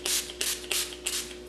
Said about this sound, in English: I just spray it